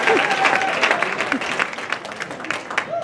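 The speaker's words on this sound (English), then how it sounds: "Let's give him a hand clap one more time" A banquet crowd at a church's 35th anniversary claps for a guest, a loud burst of applause that gradually thins and becomes patchier, with a few voices calling out over it.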